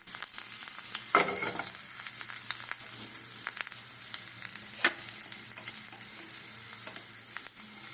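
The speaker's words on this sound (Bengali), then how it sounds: "অল্প তেল দিলাম এটাতে এবারে এই যে রসুন আছে রসুন দেবো" Garlic sizzles in a little oil in a pan while being prepared for momo, a steady, close crackling hiss with a few louder stirring scrapes.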